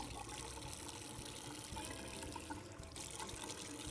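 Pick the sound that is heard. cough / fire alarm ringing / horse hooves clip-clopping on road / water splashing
water splashing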